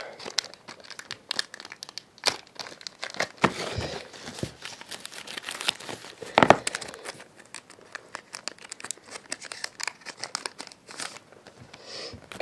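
A Pokémon Platinum Arceus booster pack is torn open by hand: steady crinkling and crumpling of foil wrapper with sharper tearing bursts, close and fairly quiet, with no talking.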